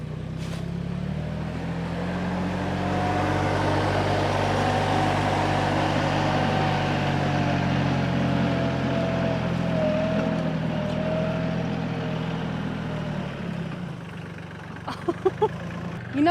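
A tractor driving uphill on a homestead, its engine running as a steady, loud low drone with a continuous rumble throughout, easing off near the end with a few brief knocks.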